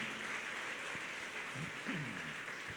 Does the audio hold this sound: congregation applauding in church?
yes